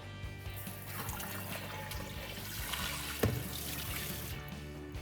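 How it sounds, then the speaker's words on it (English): Tap water runs steadily into a sink while a pan is rinsed beneath it, a continuous close splashing wash with a brief clatter near the end. "I'm going to rinse out my pan."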